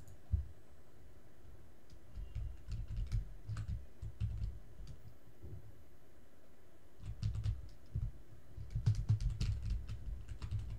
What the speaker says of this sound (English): Sorry if my mouse clicks or keyboard are too loud.